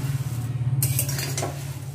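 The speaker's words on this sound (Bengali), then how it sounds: "নাড়ু বানানোর জন্য সবার প্রথমে আমি খইগুলো কড়াতে মেরে নেব। খইটা ততক্ষণ নাড়তে হবে" Puffed rice stirred and roasted in a hot wok, a steady dry rustling hiss with sharper scraping bursts of the utensil against the pan partway through, close and fairly quiet.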